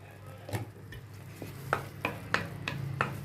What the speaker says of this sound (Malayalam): അതുകൊണ്ട് മസാല നന്നായിട്ട് വഴലണം